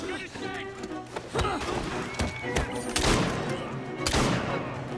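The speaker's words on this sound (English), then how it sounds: "we're just shooting everybody" Gunfire in the video game Assassin's Creed Syndicate, a dense run of rapid shots and thuds layered over game music and effects, with players talking excitedly throughout.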